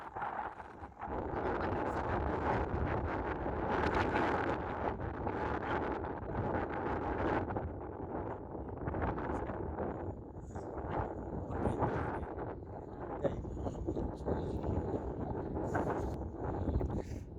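Strong wind blowing outdoors in open country, buffeting the microphone with a loud continuous roar and gusts throughout, with no talking.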